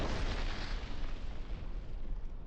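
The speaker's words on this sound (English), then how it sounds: "Destruction of a temporary deployment point belonging to the Ukrainian armed forces using a FAB-500 air bomb equipped with a guided missile system" A FAB-500 guided air bomb strikes a temporary military deployment point, heard as a dense, sustained low roar of explosion that rumbles loudly throughout without pause.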